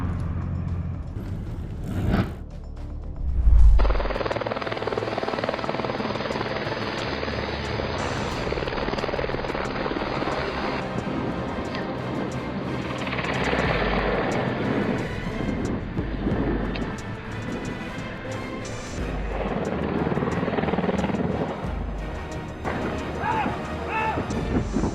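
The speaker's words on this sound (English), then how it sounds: "On September 20, 2016, a helicopter crashed into the sea during a training flight." A helicopter on a training flight over Coal Harbour near Stanley Park, Vancouver, heard as a loud sustained rotor and engine roar with a deep thump early on, continuing steadily and shifting in tone, with a voice talking over it.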